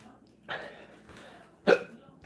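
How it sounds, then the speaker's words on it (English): A person hiccups twice, each one a short, sharp, close burst about a second apart, the second louder than the first, with quiet breathing between. "I've got the hiccups."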